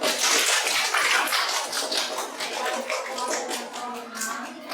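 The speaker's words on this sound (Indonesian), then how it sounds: "Beri tepuk tangan dulu." Classroom applause from students after a group presentation, a quick, fairly close stream of many hands clapping with scattered children's voices mixed in.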